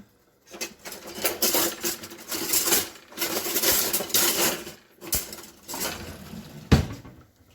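Metal spoon and cutlery clatter among pots in a home kitchen while cooking chicken and dumplings, several close, bright clinking bursts separated by short pauses, ending in a sharper knock.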